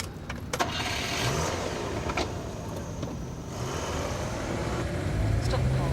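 Car interior in a 1991 TV police drama, steady rumbling engine and road drone throughout the ride, with a few faint knocks and thumps and no talking.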